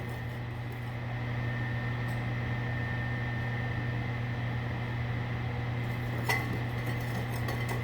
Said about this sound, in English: Shouldn't take long to do that in the microwave.